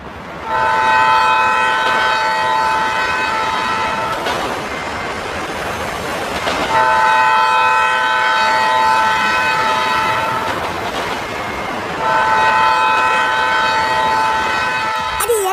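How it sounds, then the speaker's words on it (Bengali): A loud electronic bullet train horn in GTA 5 blares in three long sustained blasts, with rumbling rail noise between them and running underneath throughout. "ট্রেন আসছে ট্রেনের হর্নের আওয়াজ বারবার আসছে"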